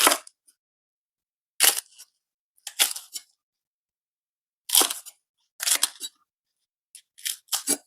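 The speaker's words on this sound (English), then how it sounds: "Now for the spring onions, I'm going to just cut like that." Knife slicing spring onions on a cutting board in a home kitchen, heard as short crisp chopping bursts in small clusters separated by pauses, close and fairly loud with no talking.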